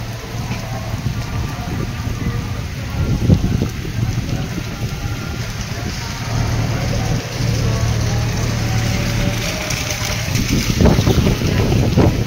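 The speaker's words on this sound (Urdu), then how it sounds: "بہترین ہوا چل رہی ہے ساتھ ساتھ" Outdoor wind blowing steadily in the evening darkness in Chattha Bakhtawar, Islamabad, giving a continuous broad rush with gusty swells, a low steady hum underneath and occasional bumps and rustles near the microphone.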